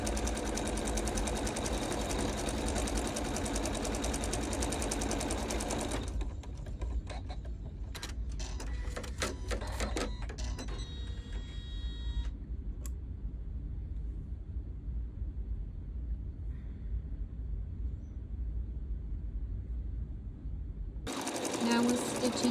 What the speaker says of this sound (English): Now we're stitching the snowflake in the middle of the hat